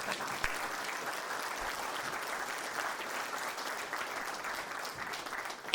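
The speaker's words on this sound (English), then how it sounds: "Can I get a clap of hands for that?" Steady applause from an audience at a reunion dinner for a racing enterprise, fairly quiet and evenly sustained throughout with no speech over it.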